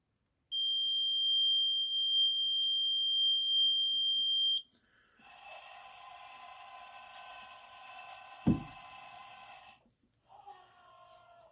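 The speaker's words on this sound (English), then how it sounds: "that beep that you heard at the beginning there was, that was my circuit breaker" A circuit breaker on a model railroad DCC setup gives a loud, steady high-pitched beep lasting about four seconds, followed by a different shrill electronic tone with a sharp click partway through, then a brief softer tone.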